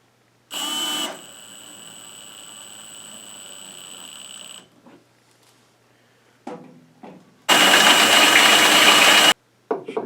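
A power drill runs in short bursts while backing screws out of wood during a DIY kitchen cabinet build, with a high whirring spin-up, a long quieter run, then a loud sustained grinding burst, with no speech.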